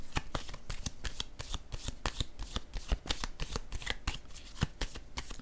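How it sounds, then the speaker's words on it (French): Tarot cards shuffled and laid down on a table, a rapid run of crisp riffling snaps and soft slaps in an uneven rhythm, close and fairly quiet with no voice over them. "Je vais déposer une autre carte."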